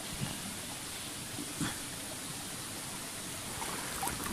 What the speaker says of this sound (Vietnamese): Cái suối đây.